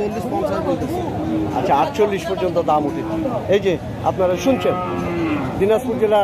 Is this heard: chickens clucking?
no